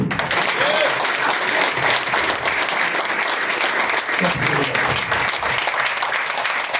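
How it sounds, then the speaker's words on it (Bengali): An audience claps loudly and steadily after a relaxation session, a dense, continuous burst of applause that fills the whole stretch without pause. "এবার ক্ল্যাপিং হবে তো?"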